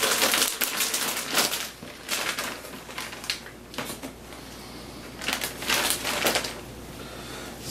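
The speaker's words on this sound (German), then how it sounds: "das ist das Fladenbrot noch raus aus der Packung." Crinkly plastic packaging rustles and crackles as flatbread is pulled out of it for a pizza, with repeated loud close crunching bursts and brief lulls.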